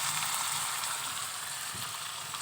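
Spices fry in a pan with a steady, fairly soft hiss that stays even from start to finish, with no voices.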